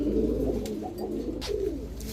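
Low, throaty cooing from a female Giribaz pigeon rolls on in close, steady phrases, alone apart from a couple of faint clicks.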